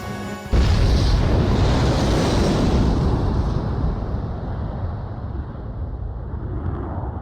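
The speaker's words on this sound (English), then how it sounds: "Mass driver hit by cruise missile." A cruise missile strikes the mass driver in Ace Combat 5, bursting in with a sudden loud boom that rolls into a long, heavy rumble and slowly thins out over several seconds.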